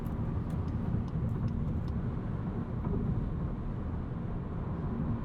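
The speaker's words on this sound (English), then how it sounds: "The most notable aspect of noise in the GLI is wind noise." Steady broadband cabin noise inside a 2020 Volkswagen Jetta GLI cruising at highway speed, dominated by constant wind and road rumble, with no talking.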